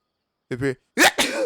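A person sneezes nearby, a short breathy burst preceded by a brief voiced intake, with no other sound around it.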